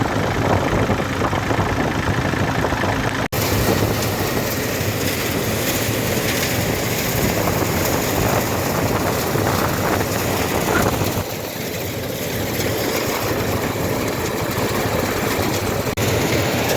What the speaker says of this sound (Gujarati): જો ટ્રેક્ટર ચાલુ કરી દીધું છે.